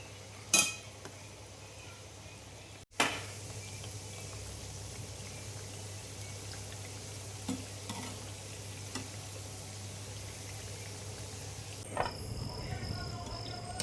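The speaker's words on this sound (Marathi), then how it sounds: "आता हे आपल्याला चांगलं तळून घ्यायचं आहे." Kapnya, sweet fried snacks, deep-fry in oil with a constant bubbling sizzle, interrupted by a few loud knocks and clatters early on and occasional light taps, with a brief shift in tone near the end.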